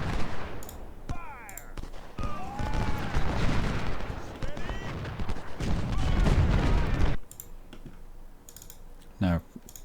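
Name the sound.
gunfire and artillery in video game Ultimate General: Civil War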